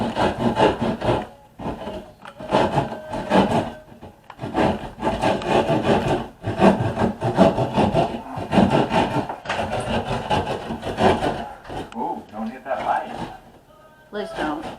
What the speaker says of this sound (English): take my handy dandy drywall saw